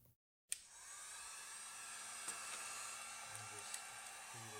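A heat gun blows steadily while warming Triumph motorcycle indicator wire connectors during an LED swap, a continuous close airy whoosh starting after a brief silence and holding level with a few small clicks.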